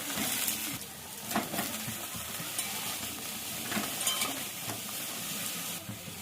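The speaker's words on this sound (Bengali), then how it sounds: "বেগুনগুলো ভেজে নেব একটু।" Eggplant pieces fry in hot mustard oil in a wok, a steady close sizzle broken by repeated scraping stirs of a spatula, moderately quiet throughout.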